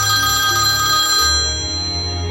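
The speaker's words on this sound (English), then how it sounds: "One night, when the phone rang" A telephone rings loudly with a bright, steady electronic ring that cuts off partway through, leaving a low hum. No one speaks.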